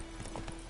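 Horse hooves clip-clop in The Witcher 3, a brief run of soft, even thuds up close.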